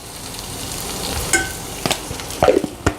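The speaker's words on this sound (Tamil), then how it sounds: "இப்போ பாருங்கள், இந்த கோவக்காய் நல்லா வதங்கிக்கிட்டு இருக்கு." Sliced ivy gourd (kovakkai) sautéing in a pan, a steady close sizzle with occasional scraping stirs and light clinks.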